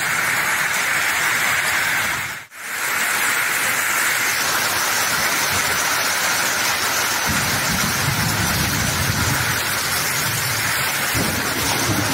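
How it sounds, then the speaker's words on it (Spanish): Steady heavy rain hisses down in Villa Juárez, Sonora, with a low rumble of thunder rolling in partway through, constant and enveloping. "un poco truenos, lluvia y toda la cosa"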